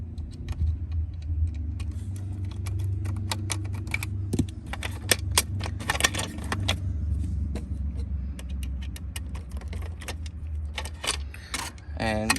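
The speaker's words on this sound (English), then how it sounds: "take this case off by removing the two Phillips head screws on each side" Phillips head screws being backed out of the side casing on a Mercedes W140 S-Class front seat, with small metallic clicks and taps scattered over a steady low hum, close by and fairly quiet.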